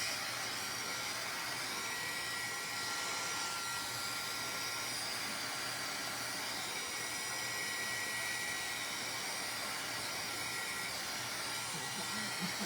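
A heat gun blows steadily to heat-set wet ink on a paper craft piece before embossing powder goes on, giving an even, continuous whooshing hiss that runs unbroken from start to finish at moderate level.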